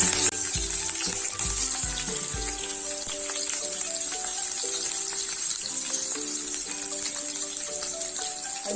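Ginger, garlic and green chillies fry with whole spices for a paneer mutter masala, giving a steady, crackling sizzle throughout with a soft melodic tone running beneath.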